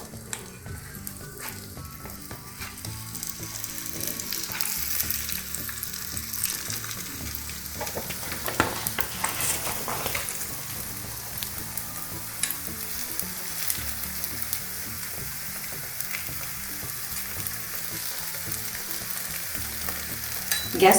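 Sakkare holige fries on a ghee-greased griddle over a low gas flame, giving a steady, close, continuous sizzle and crackle with no talking.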